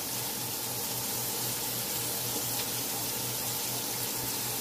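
Tap water runs steadily into a cooking pot as it is filled for soaking black-eyed peas, a close, continuous splashing gush that holds at an even level throughout.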